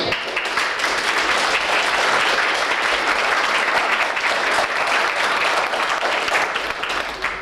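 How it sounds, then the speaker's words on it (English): Guests at a wedding reception give a sustained round of applause, a thick, even crowd of clapping that holds for several seconds before easing slightly at the end. "we'll give her a round of applause"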